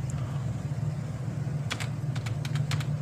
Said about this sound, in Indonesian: Kemudian kita ketik nomor misalkan